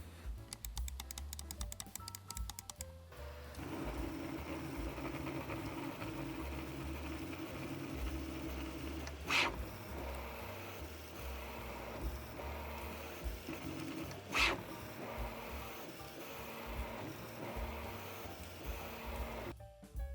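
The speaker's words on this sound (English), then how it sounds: "First test part has finished printing." 3D printer printing a small PETG funnel, a quiet, steady mechanical whir with faint clicking and stepping motor tones, plus a couple of brief louder ticks, heard close with no talking.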